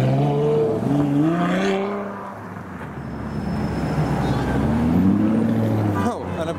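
A Ferrari 812 and a LaFerrari supercar driving on a London street, engines revving and rising in pitch as they pass, with a quieter lull in the middle and traffic noise around.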